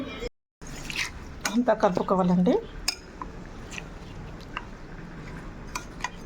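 A spoon clinks and scrapes in a bowl while tempering is stirred into yogurt, with a short burst of clatter early on and a person speaking throughout.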